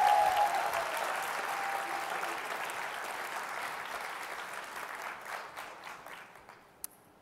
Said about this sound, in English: Let's give her all a round of applause,